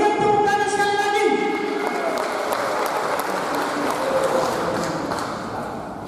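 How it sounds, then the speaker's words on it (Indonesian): Audience applause at a Pemuda Batak Bersatu New Year gathering, a dense burst of many hands clapping that swells then gradually thins, with background music tones fading at the start. "Berikan tepuk tangan sekali lagi."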